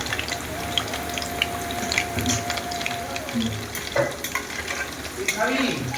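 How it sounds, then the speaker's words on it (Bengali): Chicken pakoras fry gently in oil over low heat, giving a steady close crackling sizzle broken by stirring scrapes and small pops, with faint background sounds and no clear speech. "পকোড়াগুলো লাল লাল ভেজে নেব কম আঁচে।"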